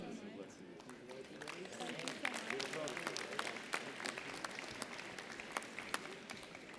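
A large commencement audience applauds the graduating dental medicine class of 2018, with dense, sustained clapping from many people and voices underneath.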